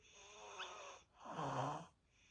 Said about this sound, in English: So videos of his snoring. He very audibly snores.